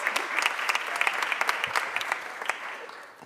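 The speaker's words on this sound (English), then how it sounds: "Please give him a round of applause" Warm applause from an audience at a Philadelphia education funding event, a dense run of clapping with sharp individual claps standing out, close and steady before fading slightly at the end.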